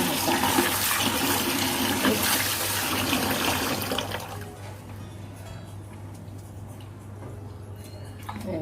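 Glutinous rice is rinsed in water, with vigorous close sloshing and swishing for a few seconds that then settles into softer trickling and dripping over a low steady hum.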